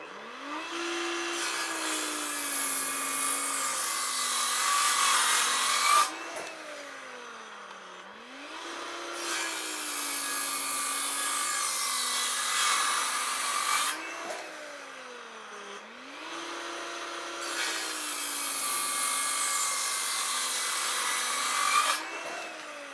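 A Villager VLP 1820 handheld circular saw cuts wood in three long passes, its motor whining and pitch dipping under load while the blade rasps loudly through the board, with brief pauses between cuts.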